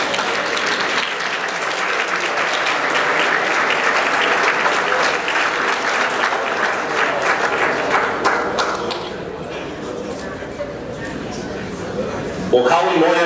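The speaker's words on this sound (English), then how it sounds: "Please join me in a round of applause for the members of the men's and women's cross country teams." Sustained audience applause at a senior student-athlete luncheon for the men's and women's cross country teams, dense and steady for about nine seconds before thinning out to scattered claps.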